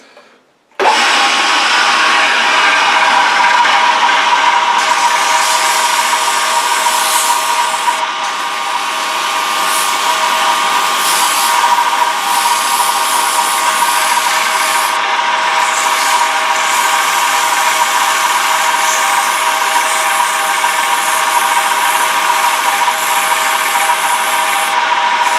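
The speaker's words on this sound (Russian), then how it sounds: "Наша следующая задача — просто отшлифовать наждачной бумагой" Continuous, loud abrasive whirring of turned wood being sanded with sandpaper on a machine, a steady harsh drone that runs nearly unbroken after a brief quiet start.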